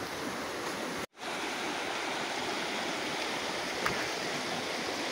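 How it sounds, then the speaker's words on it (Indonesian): The fast-flowing Cibentar river rushes steadily, a loud, dense broadband wash of water that fills the whole clip with only a brief dropout near the start. "Sungai Cibentar alirannya"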